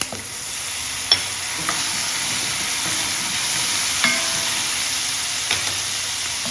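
Lemon juice, salt and asafoetida stirred together in a pan over a steady hiss, with a few soft spoon knocks against the metal spaced a second or two apart.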